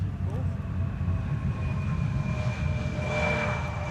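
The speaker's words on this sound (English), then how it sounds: "A KLM Embraer in the meantime" A KLM Embraer jet at Schiphol Airport gives a steady engine rumble with a thin whine on top, moderately loud and continuous, while a person talks over it.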